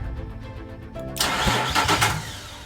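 A Nissan Xterra race truck's engine cranks with a brief rhythmic starter whine, then catches and roars into life, settling into a rough idle nearby.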